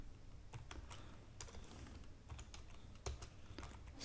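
Rapid clicking keystrokes on a computer keyboard while C++ code is typed, quiet and close, in uneven bursts with a few sharper taps and brief pauses.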